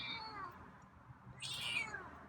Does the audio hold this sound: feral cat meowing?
yes